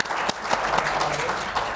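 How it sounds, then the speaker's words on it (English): A conference audience applauds in a steady, even wash of many hands clapping, sustained and moderately loud throughout. "So a big clap for them"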